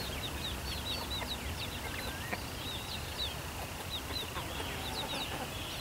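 Hens cluck in short, repeated calls from a small backyard flock of four chickens near a garden, a steady scatter of bright clucks over a constant low outdoor background, with no talking.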